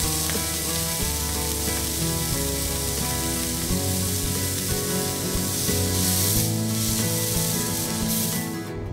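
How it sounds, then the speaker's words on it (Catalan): A lobster's claws and body sear on a very hot griddle pan, producing a loud, continuous sizzle that holds steady from start to finish over background music. "Doncs ja tenim passat el llamàntol per la planxa, en el cas de casa amb una paella ben roent"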